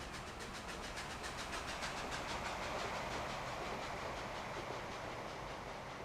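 A train rolls past in the Transport Fever rail game, a steady loud rumble with rhythmic clickety-clack of wheels and a faint hiss, holding constant throughout without any talking.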